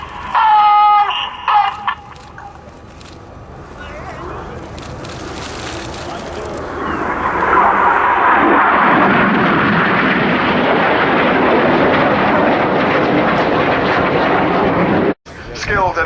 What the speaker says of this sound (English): 6, 7 and 9 approach us for a fantastic manoeuvre called the Vortex.